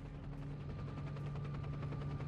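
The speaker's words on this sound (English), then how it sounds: "Your helicopter." A helicopter in the PC game S.T.A.L.K.E.R.: Shadow of Chernobyl passes overhead, its rotor producing a steady, rhythmic chopping pulse at moderate volume with no talk.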